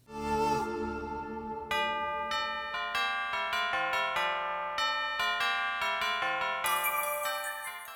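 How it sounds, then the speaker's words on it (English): Bright chiming bells play a repeating melodic pattern, notes ringing and overlapping in a steady rhythmic cycle. "It starts with this 6/4 pattern in the bells."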